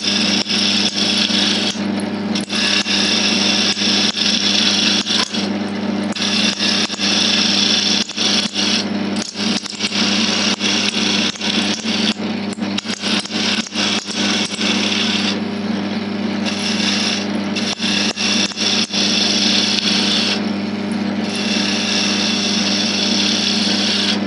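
A wood lathe spins a segmented pen blank on a mandrel while a roughing gouge cuts it, giving a loud, continuous scraping hiss over a steady motor hum, with short breaks where the tool lifts off the wood.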